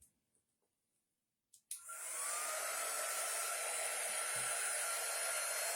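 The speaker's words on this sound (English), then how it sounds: "Now I have my dryer. We're going to dry this a little bit." A handheld hair dryer switches on after a brief click and blows steadily at close range, a continuous whooshing hum during dog grooming with no talking.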